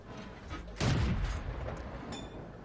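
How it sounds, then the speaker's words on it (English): A World of Tanks cannon shot booms loudly with a heavy low blast and lingering rumble, followed by a fainter distant report amid game background noise. "there's some bad shooting here"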